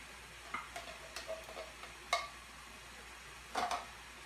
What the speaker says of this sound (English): You're going to stir that together really good.